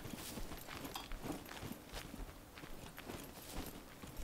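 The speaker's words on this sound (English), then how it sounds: "So they should hear my footsteps if they're paying attention" Footsteps in a video game, steady and rhythmic, heard close against a dense, noisy background throughout.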